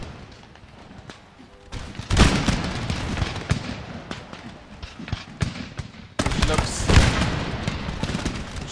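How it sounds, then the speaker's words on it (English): Volleys of musket fire by rank from line infantry and Scottish units in the Empire: Total War siege of Philadelphia, rolling crackling bursts in two main waves, with a voice talking in between. "These guys firing by rank."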